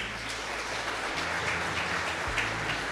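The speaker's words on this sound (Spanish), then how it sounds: "Demos un aplauso, bienvenidos." A church congregation claps to welcome first-time visitors, a fairly quiet, even patter of applause over low sustained organ or keyboard tones.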